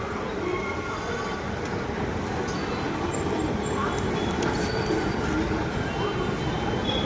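A Hyderabad metro train runs along the line, heard as a steady, loud rumble with faint high squeals from the wheels throughout, continuous and close, as if from on board.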